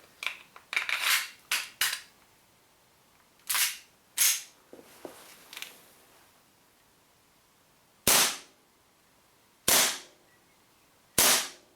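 A WE P228 airsoft pistol fires a string of sharp, snappy pops, first in a quick cluster and then as single, well-spaced shots. Each crack is heard close and alone.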